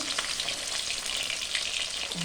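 Pabda fish fry in oil in a pan, a soft, steady hiss of sizzling close by with faint crackles throughout, no voices heard.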